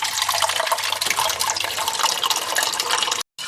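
Cold water from a machine pours steadily into a container of rice flour with a pinch of salt, a continuous bright splashing stream that stops abruptly near the end.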